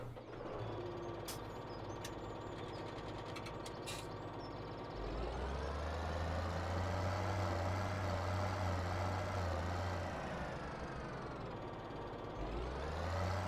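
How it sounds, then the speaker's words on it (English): A tractor engine idles as it warms up on a chilly morning in the Farming Simulator 17 farming game, a steady low drone that swells louder midway and holds, with no talk over it. "Probably should have had the tractor warming up."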